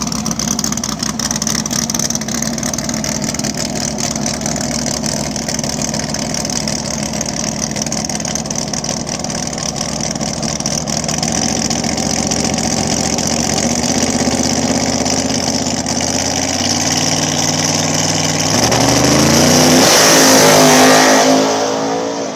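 A nitrous Fox body drag car at a street-class drag radial event in Mooresville, its loud engine burbling at idle for a long stretch, then revving hard with a rising, roaring surge near the end.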